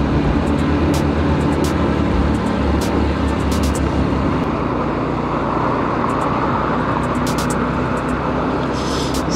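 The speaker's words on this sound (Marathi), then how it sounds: "समोर गाडी जाते राहुलची." A car with Rahul's group travels on a road during a trip to Vasantgad fort, its steady engine and tyre rumble loud and close, with passing traffic swells throughout and no voices.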